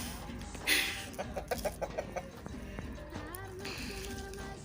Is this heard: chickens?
yes